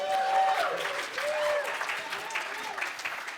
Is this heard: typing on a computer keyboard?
no